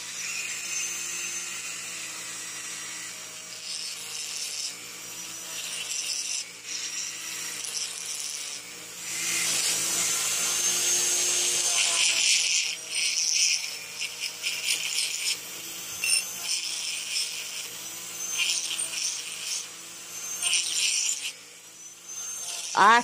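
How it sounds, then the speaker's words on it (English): A Dremel rotary tool fitted with a soft brass wire brush scours oxidation from a Honda GCV160 carburetor bowl, giving a continuous, close high-pitched whirring scrub that swells and eases as the brush presses against the metal. "I put a soft brass brush on the end of my Dremel. See if I can't deal with this, all this oxidation in this carb bowl"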